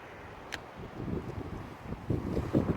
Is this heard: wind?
yes